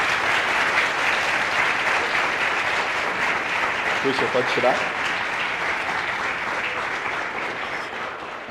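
An audience at a lecture applauds steadily, a dense wash of clapping that stays loud throughout and eases slightly at the end, while a person briefly speaks underneath midway.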